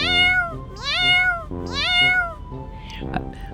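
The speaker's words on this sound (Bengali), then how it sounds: "বিড়াল ডাকে ম্যাও ম্যাও।" Two drawn-out cat meows rise and fall in turn, close and clear, followed by brief speech.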